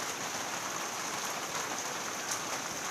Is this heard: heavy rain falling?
yes